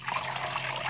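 Water sloshes and trickles as rice is swished and rinsed a second time in a home kitchen, a brief, steady, close splashing with no voices.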